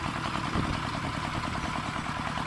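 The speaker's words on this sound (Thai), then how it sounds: "อยู่ว่างๆก็เอามาวอร์มเครื่องดูนะครับ" An ET115 farm tractor engine warming up at idle, a steady close chugging rumble with a fast even pulse and light mechanical clatter, continuous and alone.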